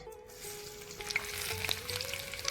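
Chopped onion sizzles in hot oil in a wok, a steady close crackle that grows a little busier as it goes, with no one talking.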